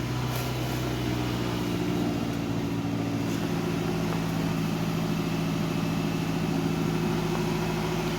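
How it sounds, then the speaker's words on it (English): A Nissan Sentra engine with an exhaust leak hums at a steady idle, a low continuous drone held close and even throughout, with no voices over it. "All right, start it right up."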